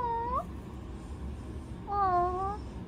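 A cat with asthma meows twice, a short rising call and then a longer drawn-out one after a pause, clear and close over a low background hum.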